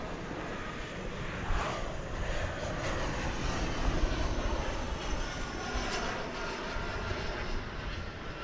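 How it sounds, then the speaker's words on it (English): An American Airlines Airbus A319 arriving from Monterey at DFW Airport gives a broad, steady jet roar at moderate distance, swelling slightly midway and holding through the stretch without speech. "have an incoming flight from Monterey. It's an Airbus A319, American Flight"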